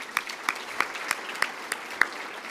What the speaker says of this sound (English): Let's give ourselves a clap for being here tonight.